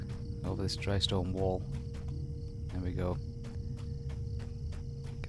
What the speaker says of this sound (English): You can hear the crickets in the background just chirping away to themselves.